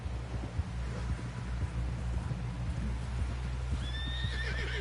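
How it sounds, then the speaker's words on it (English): A horse whinnies with a rising, wavering call near the end, over steady hoofbeats and a low rumbling background, in a PS4 game. "Someone help John down off this horse."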